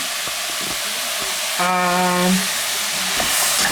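Beef sizzles steadily in a pan, with utensil scrapes and stirring clatter and a brief burst of steam hissing in the middle.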